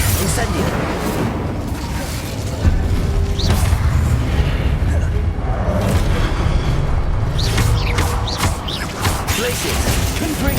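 Spell blasts and booming explosions from the Hogwarts Legacy game roar through a dense, loud mix of rumbling impacts and crackling bursts, with game voices shouting incantations over the combat.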